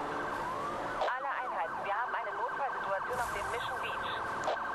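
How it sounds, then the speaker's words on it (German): A police siren wailing in the Need for Speed Hot Pursuit racing game, with a steady, close, looping electronic siren over engine and game noise. "wir haben auch die Möglichkeit, die Sirene ein- und auszuschalten"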